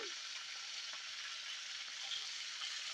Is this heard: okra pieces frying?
yes